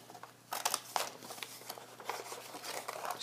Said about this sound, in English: We're going to fold it, the word chloroplast, in half, and we're going to cut below it